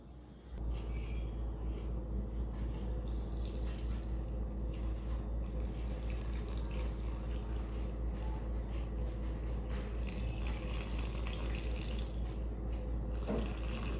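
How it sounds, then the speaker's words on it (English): Tap water running steadily into a bowl of all-purpose flour for a jalapeño, mozzarella and olive sourdough, 280 grams poured for the autolyse, a continuous close splashing stream with no talk. "now we are going to add 280 grams of water."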